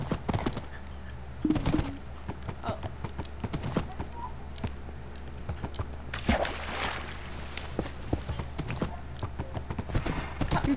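Rapid clip-clop of Minecraft horse hooves, loud and close, coming in uneven bursts over a low steady background hum.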